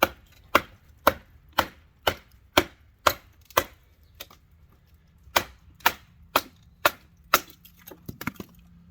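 Work Tuff Gear Hemlock Ares axe splitting firewood: a steady run of sharp, loud wooden cracks about every half second, a brief pause, then another quick series of close, crisp splitting blows.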